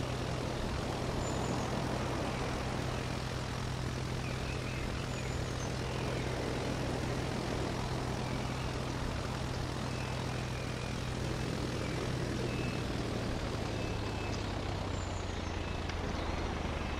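A Cessna 172 airplane engine in the Roblox game Aeronautica drones steadily and evenly, a low propeller hum that sinks slightly in pitch toward the end, with no talk over it.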